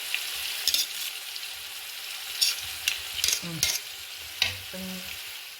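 Onions sautéing in a pan for hotel-style biryani, with soft sizzling under intermittent spoon stirs and scrapes, plus a few light metallic clinks, close and fairly quiet.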